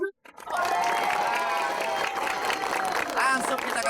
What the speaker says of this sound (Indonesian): tepuk tangan untuk Pak Masud.